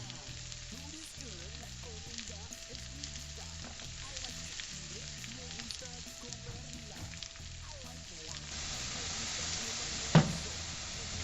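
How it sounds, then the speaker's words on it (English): Sliced potatoes frying in oil in a pan for a Spanish tortilla, a steady soft sizzle and crackle with occasional stirring, fairly quiet, growing a bit louder near the end with one sharp clatter. "While these potatoes are cooking, you didn't want them to stick, so you have to turn them periodically."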